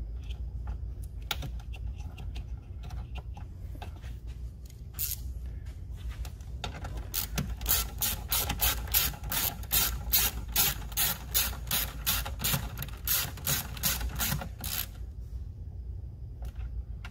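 A hand ratchet tightens a mounting bolt on a Chevrolet or GMC truck engine, clicking in quick, even runs that grow louder and faster midway, close up with light shop noise behind.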